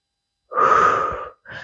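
A single deep breath during a pilates session, one long airy exhale followed by the start of a short second breath, close and clear with no talk.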